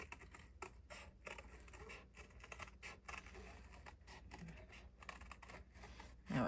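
Scissors snip irregular paper scraps in fussy detail cutting: quiet, close, crisp clicks and short slicing snips at an uneven pace, with faint handling rustle between cuts.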